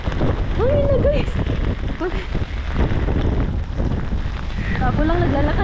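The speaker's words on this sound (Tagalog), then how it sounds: "Hangin na! Hangin na guys!" Strong wind buffets the microphone outdoors, a loud, continuous roar that heavy rain soon joins, while a woman calls out over it.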